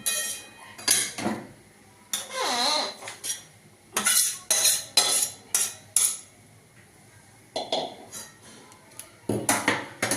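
Metal utensils scrape and clink against a plate as food is served, in irregular bursts of clatter with short pauses, close and fairly loud, with no talking.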